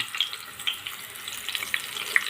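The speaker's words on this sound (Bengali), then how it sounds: "তেলটা ভালো করে গরম করে নিয়েছি এখন একে একে আমি মাছগুলো এখানে দিয়ে দিচ্ছি" Tilapia fish pieces frying in well-heated oil in a pan make a soft, steady sizzle with scattered light pops and crackles, fairly quiet and close, with no talking.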